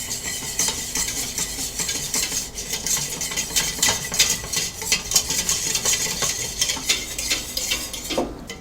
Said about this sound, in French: Alors, dès que le beurre il fond, on rajoute la farine, hein.